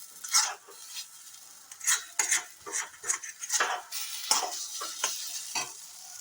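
A spoon scrapes and stirs dried peas for kachuri filling in a pan, giving irregular clinking, scraping strokes with a faint sizzle, close and moderately quiet, no voices.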